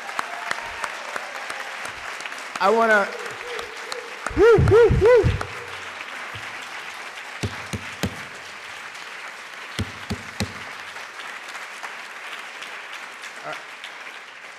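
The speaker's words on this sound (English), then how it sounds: "Hey, round of applause." An audience applauds at the close of a panel discussion on food culture, with steady clapping and a loud whooping cheer partway through. A voice speaks briefly over the clapping.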